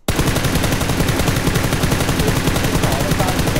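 Rapid automatic gunfire in PUBG, a continuous loud stream of evenly spaced shots that runs without pause throughout, with no talk over it.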